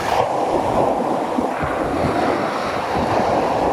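Sea waves wash onto a beach in a continuous loud surf roar, with heavy wind buffeting the microphone throughout and nobody speaking.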